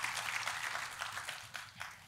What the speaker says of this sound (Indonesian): Tepuk tangannya boleh sekali lagi yang paling meriah buat Tuhan.